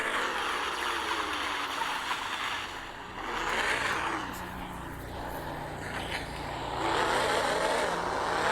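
Car engine in the Car Simulator 2 video game, a steady droning motor with rising rev swells around the middle and end, with faint voices underneath.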